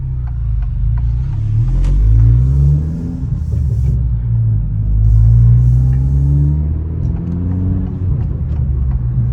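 A Honda Type R fitted with a Remark exhaust rumbles loudly and close, its deep engine note rising and falling in waves as it revs and cruises, with no talking.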